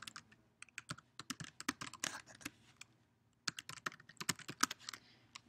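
Rapid typing on a computer keyboard while filling in an online registration form, with bursts of clicking keystrokes separated by a short pause, close and fairly quiet, no talking.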